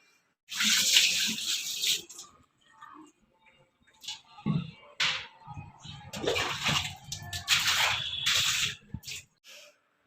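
Water splashes over a gas cylinder being washed, coming in several loud gushing bursts separated by short quiet gaps, close to the listener, with no speech.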